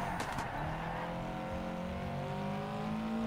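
Race car engine in Project Cars 3 held at steady high revs through a drift, with a faint brief tire squeal near the start and the motor droning loud and continuous.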